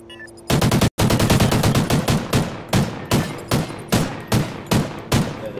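Rapid automatic gunfire in Call of Duty Ghosts, Freight map search and destroy, loud and close: a short burst, a brief gap, then a long run of sharp shots that settles into evenly spaced rhythmic bursts.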